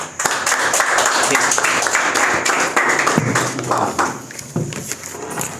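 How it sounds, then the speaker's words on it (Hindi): A church congregation at a Sunday evening service applauds to welcome the pastor, a dense wash of clapping that swells, thins briefly and picks up again, with some voices underneath. "तालियों से स्वागत करते हैं"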